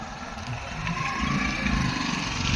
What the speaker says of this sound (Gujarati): હોન્ડા એક્ટિવા ભરાઈને હવે વાડી ખાલી થાય છે હરી.